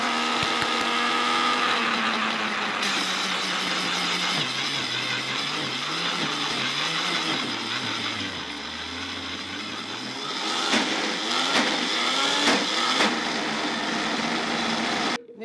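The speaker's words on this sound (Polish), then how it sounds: "Nie wiem, czy nie lepszy byłby taki ręczny blender do tego." A hand blender's motor drones continuously, its pitch shifting and straining at times as it works through a thick vegan peanut butter ice cream mixture.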